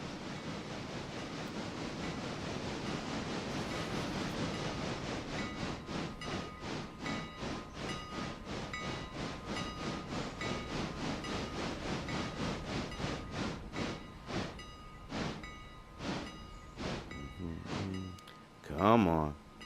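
A train rolls along the railroad with a rhythmic clatter of wheels over rail joints that quickens and then thins out, ending in a louder low rumble as it passes.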